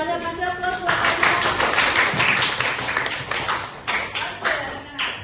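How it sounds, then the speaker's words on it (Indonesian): Classroom applause for a student after she answers a teacher's question, a broadband patter of claps from a group running steadily for several seconds with light talk mixed in. "Kasih aplaus buat Kanja."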